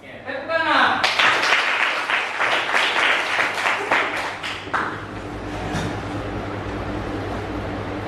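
A class of students in a school lesson bursts into a round of clapping after a brief voice, loud and dense at first, then thinning and tapering into a low background murmur.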